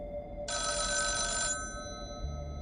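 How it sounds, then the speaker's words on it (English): Old rotary telephone on a table in the center of a silent room, its bell ringing in one sustained metallic trill of about a second, fairly faint over a low background hum. "the rotary phone on a table in the center, which suddenly rang, shattering the silence"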